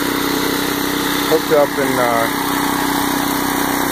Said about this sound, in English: running the lawnmower.